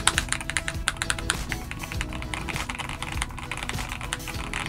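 Rapid, steady typing on an Eyooso K-620 budget TKL hot-swap keyboard fitted with Akko Rose Red switches and YMDK PBT dye-sub OEM keycaps, no PE foam, giving close, poppy, marbly clacks with no talk.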